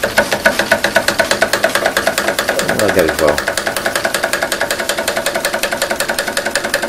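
A Stuart Turner beam engine runs on live steam with a steady, fast rhythmic chuffing and knocking beat throughout, close and fairly loud, while someone talks briefly over it.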